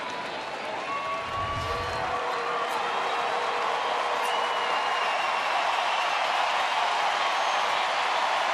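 Nearly 43,000 fans at a Detroit at Texas baseball game cheer and clap in a sustained, distant stadium roar that holds steady throughout, with a brief low thump early on.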